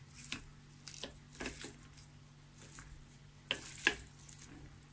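Samosa filling being stirred with Maggi masala in a bowl, giving soft wet squishing and scraping strokes in an irregular rhythm, close and fairly quiet, with a few sharper scrapes near the end.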